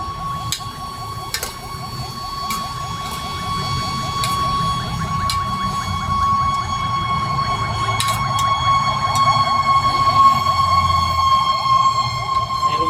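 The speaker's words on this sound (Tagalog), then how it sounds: "Maraming bumbero yung dumadaan ngayon dito." Several fire trucks pass by with wailing sirens rising and falling over a rumbling engine, growing louder and nearer as they go, with brief clanks at the start and a voice talking faintly.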